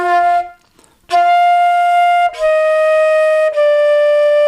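A beginner band flute plays the Hot Cross Buns harmony line, a few clear sustained notes with a short pause after the first phrase, loud and close with no talking.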